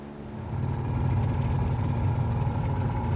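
A small outboard engine on an aluminum boat idles on a large Montana lake with a low, steady putter, close by and unchanging once it settles in, with no talking.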